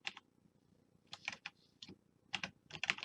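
Soft, quick keystrokes on a computer keyboard come in irregular bursts and clusters with short pauses between them, quiet and close by, with no voice over them.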